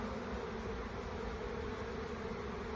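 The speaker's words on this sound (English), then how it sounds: "I have to admit that is a lot of bees trying to get in there." A dense swarm of honeybees buzzes at a hive entrance, a faint, continuous droning hum with no pauses and no voices.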